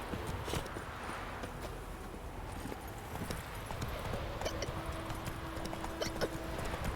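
Rhythmic clip-clop of horse hooves at a steady walking pace in the video game The Witcher 3: Wild Hunt, continuous and fairly close, with faint background ambience.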